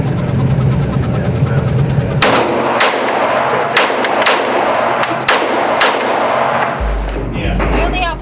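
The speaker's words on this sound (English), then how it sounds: "I think I'm gonna load up 6 more and do another controlled pair exercise, just for the training and for the fun." Springfield 1911 pistol fired in controlled pairs at a shooting range: sharp, loud reports arriving in quick doublets with ringing decay between groups, a low rumble near the end.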